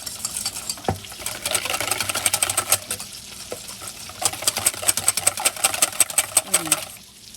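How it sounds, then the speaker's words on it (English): A whisk beats a cinnamon mixture hard in a tipped bowl, giving a fast, steady rattling scrape with quick regular strokes toward the end, close and fairly loud. "If you tip the bowl a little bit and just kind of start whisking it really hard like this"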